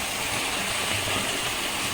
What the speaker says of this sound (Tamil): கொஞ்சம் தண்ணி வந்து அப்படியே நான் சேர்த்துக்கலாம்